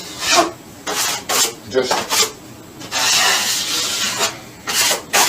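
A trowel spreads joint compound over a wall seam during a DIY wall repair, producing rhythmic close scraping strokes of varying length. A voice speaks a single brief word.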